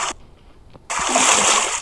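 Splashing in water during a battle royale video game, a short splash followed by a pause, then a louder sustained rush of sloshing water lasting about a second, close and loud.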